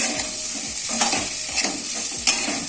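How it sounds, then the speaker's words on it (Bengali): Potato pieces frying in oil in a pan for a Bengali prawn posto dish, with a constant sizzle and a few scraping stirs, close and loud, and no talking. "আলুটা একটু ভেজে নিই, ভেজে নিয়ে তারপরে পোস্ত দেবো।"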